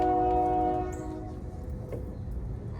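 A loud train horn blares a sustained chord, then fades as the train rumbles past with steady rolling rail noise.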